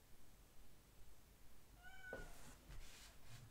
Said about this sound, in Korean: 아, 우리 고양이도 겁나 시끄럽네.